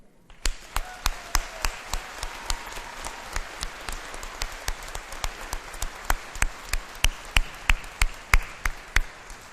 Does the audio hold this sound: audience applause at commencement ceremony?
yes